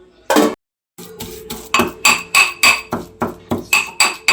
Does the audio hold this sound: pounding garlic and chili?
yes